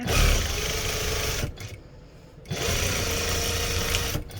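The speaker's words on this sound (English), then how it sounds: "I do a lot of production sewing, so I am used to chaining my items together." A sewing machine chain-sews catnip kicker cat toys in a continuous close whirring run, pausing briefly for about a second before starting up again and running steadily to the end.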